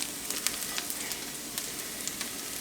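Minced garlic frying in olive oil in a pan for a creamy Tuscan garlic chicken, giving a steady close sizzle with scattered crackles and pops and no talking.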